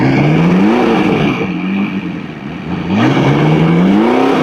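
A McLaren sports car engine, under diagnosis for a possible blown motor, revs up and falls back in repeated loud swells, close by with a rough, whirring tone.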